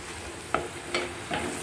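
Onion, garlic, ginger and cumin paste fries softly in a pan, a quiet sizzle broken by three short stirring scrapes, no voices.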